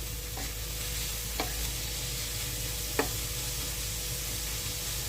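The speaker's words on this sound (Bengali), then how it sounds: "দিয়ে এবার ভালোভাবে নাড়াচাড়া করে নিচ্ছি" Drumstick flowers with salt and sugar being stirred in a pan over a low flame, a steady soft sizzle broken by three distinct scraping knocks of the spoon.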